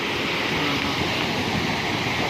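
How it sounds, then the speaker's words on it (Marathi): Rough sea waves break on Daman beach in Gujarat, a steady, loud, broadband roar of churning surf with wind buffeting the microphone and no distinct pauses. "शांततेमध्ये समुद्र खवळला आहे"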